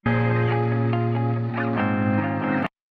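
Sustained electronic music chord drenched in reverb and modulation effects from the Baby Audio Transit plugin, loud and dense, cutting off abruptly near the end.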